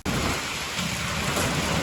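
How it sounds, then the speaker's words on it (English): Steady, heavy rain falls on a farm ahead of a winter storm, a dense continuous hiss close by with a low rumble beneath, and no voices. "No, we didn't beat the rain"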